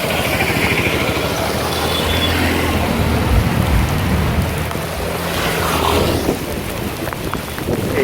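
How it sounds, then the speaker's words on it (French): Heavy rain pouring down in a steady, loud, dense hiss outdoors, with gusty rumbling noise underneath and no voices. "Et là il recommence à pleuvoir, des cordes."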